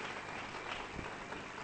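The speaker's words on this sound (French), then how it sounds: "Acclamons très fort pour le." A church congregation breaks into steady, continuous applause during a sermon, a dense wash of many hands clapping together that holds at an even level throughout with no voices over it.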